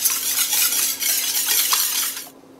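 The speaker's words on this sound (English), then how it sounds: "and whisk until well blended" Eggs, an extra yolk, salt and pepper being whisked in a large bowl: a fast, continuous bright scraping and clatter of the whisk that is loud and close, then cuts off abruptly near the end.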